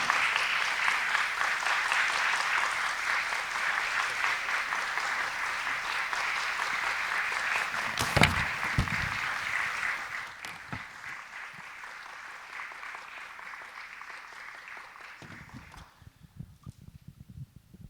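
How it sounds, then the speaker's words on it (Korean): A church hall audience gives sustained applause to welcome a pastor onto the stage, steady at first, then thinning and fading out toward the end. "큰 박수로 우리 유호준 목사님을 무대로 모시도록 하겠습니다"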